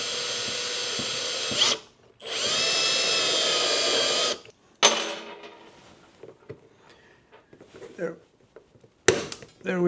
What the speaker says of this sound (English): Now I'll start making my hole